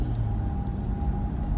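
Steady interior road rumble of a car on a morning commute, with a constant low engine drone and a faint steady hum throughout, no voices.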